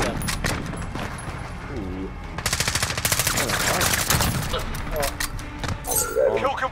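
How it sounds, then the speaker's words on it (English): MP7 submachine gun bursts in Call of Duty: Modern Warfare, rapid rattling volleys close by in several strings, mixed with other gunfire and clinking, while people talk over it. "I'm ripping them with my MP7"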